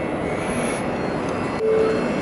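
An S2 train pulls into Skierniewice railway station with a steady, loud rumble of wheels on rail. A thin wheel squeal rises near the end, and nobody speaks.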